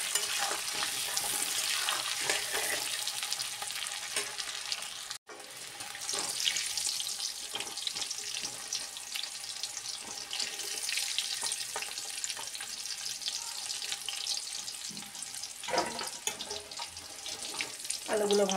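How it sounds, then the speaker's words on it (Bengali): Potatoes fry in a pan, a continuous bright sizzle running throughout at close range, broken by a brief silent gap and occasional clatters and stirring knocks. "এবার আলুগুলো ভেজে নিচ্ছি।"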